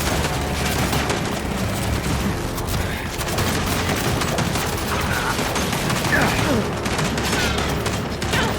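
Sustained turret gunfire in the Gears 5 video game: a dense, loud, unbroken fusillade with occasional heavier booms, running the whole time.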